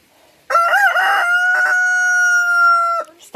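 A single rooster crows loudly and close in a paddock, one long sustained call held for several seconds, with a shorter break partway through before it trails off.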